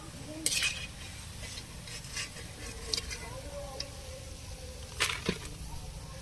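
Pumpkin leaf pakoras frying in hot oil in a pan, a steady low sizzle under a few sharp clinks and scrapes of a utensil stirring and lifting them out, with faint background voices.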